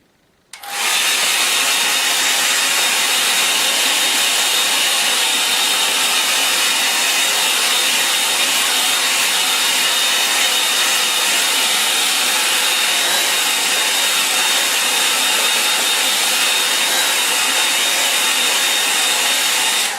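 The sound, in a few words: hairdryer drying watercolour painting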